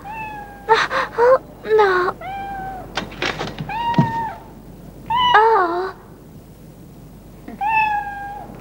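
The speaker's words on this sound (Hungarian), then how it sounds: "Szegény cica, eltévedtél az éjszakában." A cat meows at night, five or six clear, fairly loud, plaintive cries with short pauses between them, mixed with a couple of soft thuds.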